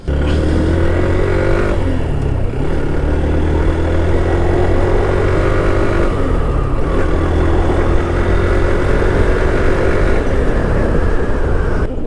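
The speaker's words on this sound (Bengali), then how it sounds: "সো ফার্স্টে আমরা এই বাইকটা একটা একটু রাইড করে দেখে আসলে কেমন।" A Honda Hornet motorcycle engine on a test ride hums loud and close, its steady tone rising as it pulls and dropping briefly at a couple of gear changes.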